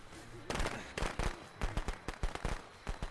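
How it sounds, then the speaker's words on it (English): A rapid string of sharp popping bangs from firecrackers in the video game Friday the 13th, going off in bursts, close and fairly loud, with brief gaps between clusters. "Eat firecrackers!"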